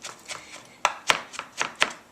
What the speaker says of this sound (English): And then with a sharp knife, chop it up finely.